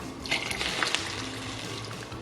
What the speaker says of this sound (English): Now, we need to add a cup of cold water.